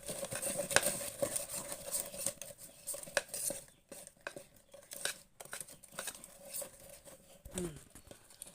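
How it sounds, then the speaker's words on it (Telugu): Egg cake batter with baking powder is beaten by hand in a bowl, producing rapid, irregular clinks and taps of a utensil against the bowl, close, with short pauses. "ఇప్పుడు ఇవన్నీ మిక్స్ అయ్యేలాగా బాగా క్రీమీ స్ట్రక్చర్ వచ్చేంత వరకు బాగా కలుపుకోవాలండి. ఇలా బాగా బీట్ చేసుకోవాలి."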